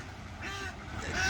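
Ducks playing and bathing in a pond, a brief faint honking quack rising over soft background noise, somewhat distant.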